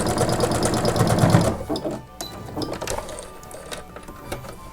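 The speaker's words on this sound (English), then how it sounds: "I'm going to start sewing right here at the seam, and I'm just going to sew all the way around the top of our bag" A sewing machine stitches around the top seam of a fabric travel shoe bag with grommets, running steadily and loudly for over a second, then breaking into softer, intermittent bursts and clicks as the stitching slows.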